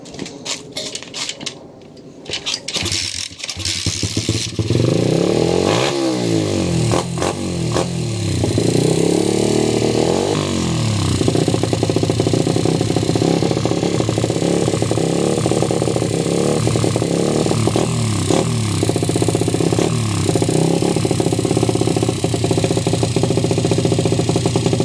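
Revving and idling engine of a pit bike with a CNC-machined billet frame and a carburettor not properly set up, loud and close, running steadily with repeated rises and falls in pitch throughout.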